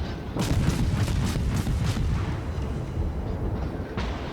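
A naval gun salvo from a warship in World of Warships booms as a quick series of heavy, rumbling shots early on, then fades into a steady low roar.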